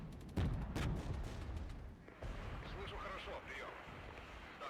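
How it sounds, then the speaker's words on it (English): Artillery fire in the strategy game Regiments: a few heavy booms land close together early on, then a later blast, set against a rumbling battlefield background. "Artillery is hitting people that they don't like."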